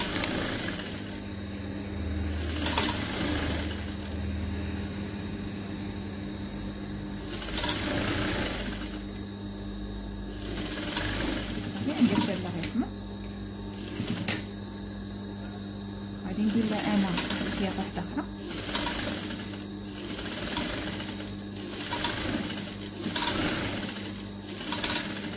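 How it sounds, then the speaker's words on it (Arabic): Domestic sewing machine stitching a folded garment sleeve, running in several bursts of steady mechanical whirring with short pauses between runs, moderately loud and close, with occasional handling noise. "وعاد غادي نخيطها"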